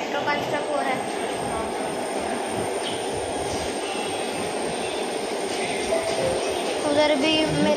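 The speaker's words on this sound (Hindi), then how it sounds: "देखो कैसे इधर भी मेट्रो का स्टॉप हो रहा है।" A Mumbai metro train slows into a station, with steady rolling rumble, faint wheel squeal and hum filling the scene while some people talk quietly in the background.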